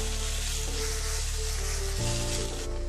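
Sliced green chillies and onion sautéing in a pan for a Kerala bitter gourd masala, a steady loud sizzle under a constant mechanical hum that shifts pitch partway through.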